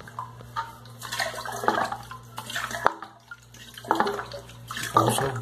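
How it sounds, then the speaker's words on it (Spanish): Water being scooped and poured out of a toilet tank while a toilet fill valve is installed, with irregular sloshing and splashing bursts close by over a steady low hum, with no talking. "Pauso en lo que le saco el agua."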